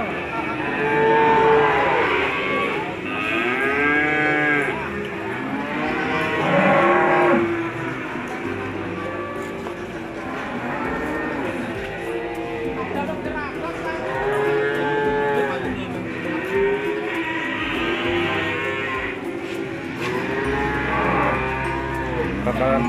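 Ongole crossbred (PO) cattle moo repeatedly, with long, loud calls from several animals that overlap one another through a steady farmyard background.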